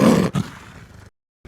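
A jaguar gives a short, close roar with a second grunting burst, then trails off into silence.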